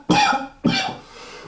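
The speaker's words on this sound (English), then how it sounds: "I always cough when I get to this part." Two sharp coughs in quick succession, close and fairly loud, the second slightly longer and trailing off.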